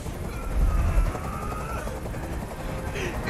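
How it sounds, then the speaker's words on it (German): Helicopter noise in the video game Detroit: Become Human, a steady low rotor drone holding at moderate level throughout. "Ich halte diesen Krach nicht mehr aus. Dieser Helikopter soll verschwinden."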